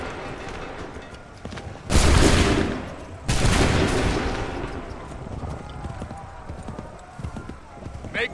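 Musket volleys in the video game Assassin's Creed III: two loud massed broadside blasts around the two- and three-second marks, each decaying into rolling noise, with horse hooves and shouted commands around them.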